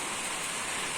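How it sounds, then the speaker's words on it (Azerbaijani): Rain falls in a steady, dense hiss of broadband noise, even and continuous with no gaps and no voices. "Yaman da yağır."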